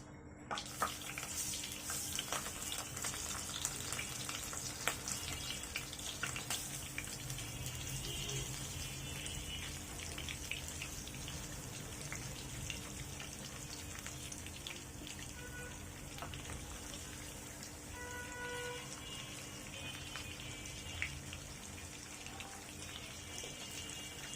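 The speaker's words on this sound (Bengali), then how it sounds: "তেলটা গরম হয়ে আসছে। এখন আমি এর ভিতর দিয়ে দিচ্ছি মাছ।" Fish frying in hot oil for a Bengali parshe fish dish, a soft continuous sizzling hiss with faint crackles, steady and fairly quiet throughout with no talking.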